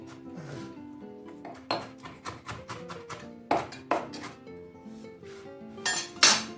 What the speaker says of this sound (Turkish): Bu cevizleri isterseniz çekersiniz ama ben biraz dişe gelmesi için şöyle bıçağımla, bıçağımla kesiyorum.